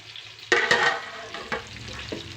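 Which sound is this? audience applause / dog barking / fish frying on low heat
fish frying on low heat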